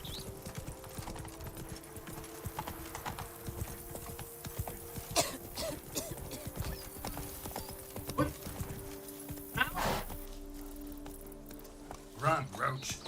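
Galloping horse hooves from the game The Witcher 3: Blood and Wine, a rapid continuous clip-clop with occasional snorts and a neigh, beneath game voices and other talk.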